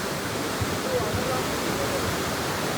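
A flooded village river rushes past carrying stones and logs, a loud continuous broadband roar close by with no distinct breaks or individual knocks.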